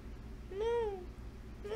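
A kitten gives a single clear meow up close, rising and then falling, and a second meow begins just at the end over a low background rumble.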